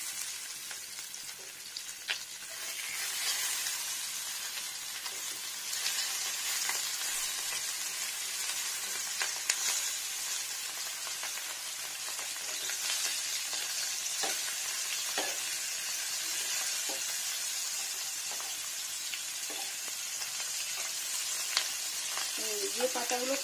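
Fish roe patori wrapped in gourd leaves sizzles and fries steadily in a pan, a continuous hiss with occasional faint scrapes and clicks.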